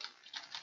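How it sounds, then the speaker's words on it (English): Keystrokes on a computer keyboard while JavaScript code is entered, a few quick soft taps in short bursts, close and fairly quiet, with no voice. "I'll explain what I'm typing here"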